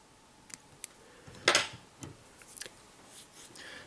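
Scissors trimming the butts of fly-tying material at a vise, a few small close snips with one sharper cut in the middle, quiet handling noises between them.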